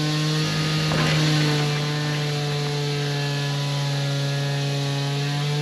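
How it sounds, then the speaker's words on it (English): Barn cleaner manure system in a heifer and dry cow barn running with a loud, steady electric motor hum and a faint mechanical ratcheting, constant throughout without talk. "now we're just gonna turn the barn cleaner on here, and that should bring the head back"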